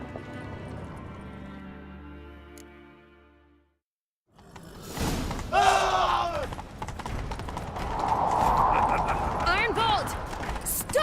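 Horses gallop in The Witcher 3 video game, a steady stream of hoofbeats with whooshes and game sounds following a brief quiet gap after a stretch of music.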